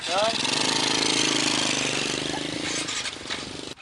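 A small motorcycle engine, out of fuel, cranks and sputters with a rapid, rattling chug, loud and close, struggling without settling into an idle.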